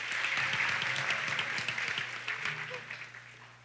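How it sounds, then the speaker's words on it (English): An audience at a school band spring concert claps for a performer, a moderate round of applause that fades toward the end, with a low hum and some faint voices beneath. "Please give her a round of applause."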